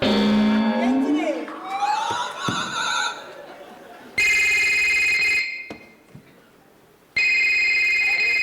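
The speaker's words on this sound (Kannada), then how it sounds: "uncle phone ತೆರ್ಪುಲೆತ್ತ uncle" A telephone ringtone plays loudly in two long electronic bursts separated by a gap, following earlier stage voices, music and crowd sounds during a Tulu comedy drama performance.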